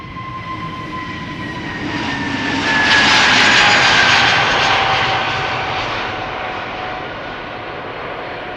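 A jet airliner departs Amsterdam Schiphol Airport, a loud sustained engine roar that swells to a peak midway and then slowly fades, with a steady whine layered over broadband rumble.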